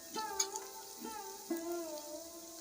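Spices sizzle and fry in hot oil for a village-style Malvani mutton curry, a steady crackling hiss with a few brief stirring scrapes, close and moderately quiet.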